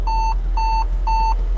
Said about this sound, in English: And the nice sound keeps on beeping.